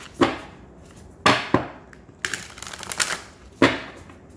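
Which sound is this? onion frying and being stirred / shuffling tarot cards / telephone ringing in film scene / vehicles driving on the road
shuffling tarot cards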